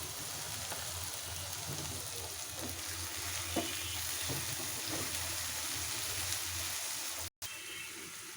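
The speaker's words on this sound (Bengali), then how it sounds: "আমি ভেজে নিচ্ছি ভালো করে" Chopped cucumber frying in a pan for a fish roe dish gives a soft, continuous sizzle with faint bubbling, quiet and unbroken, with one brief dropout near the end.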